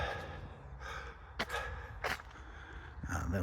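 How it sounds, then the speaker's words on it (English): A person's breathing caught close by a handheld camera microphone on a late-afternoon woodland walk in February, a few audible breaths and sharp exhalations over soft ambient noise. "That's why you can hear me breathing."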